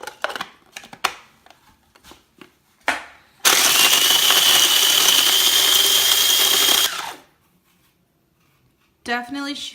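A mini food processor crushes graham crackers in one loud, steady whirring burst of about three seconds, motor and rattling crumbs together, with quieter handling knocks before and a short voice after.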